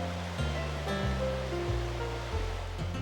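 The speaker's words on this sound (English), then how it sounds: "What you're looking at is the tailrace at Hyattstown Mill. This is where the water, the spent water that flowed over the wheel, went back into the main stream" Spent water from the mill wheel rushes steadily out of the tailrace at Hyattstown Mill into the stream, a continuous loud wash with a low mechanical hum underneath.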